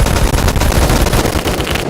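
Sten or grease gun in the video game Phantom Forces firing in loud sustained automatic bursts, a dense rattle of rapid shots filling the whole moment.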